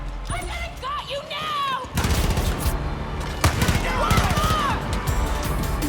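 Gunfire in the Far Cry New Dawn video game, rapid bursts of close shots and booms following a quieter stretch, with a voice heard in places.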